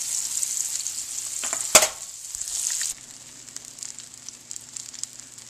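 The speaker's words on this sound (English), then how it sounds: "This is the second set of veal brain that I put in the frying pan." Veal brains fry in a frying pan with a steady, close sizzle, broken once by a sharp clatter before the crackling quiets slightly and carries on alone.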